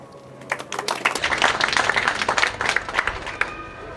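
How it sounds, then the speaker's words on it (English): Audience applause for the judges at a koi show awards ceremony, a steady burst of clapping from a crowd that swells, holds for a few seconds and then tapers off. "Let's give the judges another hand of applause."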